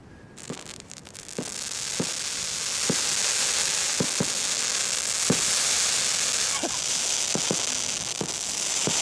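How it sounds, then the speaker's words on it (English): Fireworks at the North Pole sound as a string of sharp, distant pops and bangs, spaced irregularly over a constant roar of wind and broadband hiss in the polar cold. "Fireworks at the North Pole, man."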